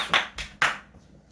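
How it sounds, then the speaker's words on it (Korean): A few people clap during a family worship gathering, three sharp, close hand claps in quick succession before quiet. "박수"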